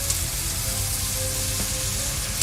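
Sesame tofu sizzles in an IKEA wok, a steady loud hiss of frying oil crackling continuously with no talk over it.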